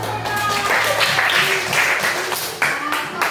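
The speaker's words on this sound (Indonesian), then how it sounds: "Ya, tepuk tangan dulu." An audience of students and teachers at an elementary school session applauds in a sustained, fairly loud round of clapping, with some voices and faint tones mixed underneath.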